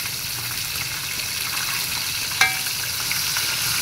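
Chicken pieces fry in hot oil for crispy chicken, a steady close hiss and crackle of sizzling with one sharp pop partway through and no talking.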